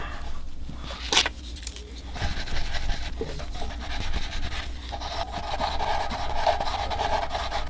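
Higher-grit sandpaper rubbing over a guitar finish during a GluBoost MasterTint repair, a steady close scratchy rasping with short strokes and a brighter rub toward the end.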